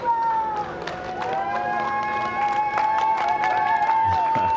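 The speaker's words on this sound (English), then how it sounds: "Small crowd, but big cheers." A small crowd cheers for astronauts Bob Behnken and Doug Hurley before the SpaceX Demo-2 launch, with scattered claps, whoops and whistles under a steady hum and voices.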